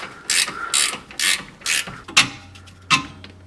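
A ratchet wrench clicks loose the 17mm lower control arm bolt on a Suzuki Jimny, with about six short bursts of close, loud ratcheting and a brief creak.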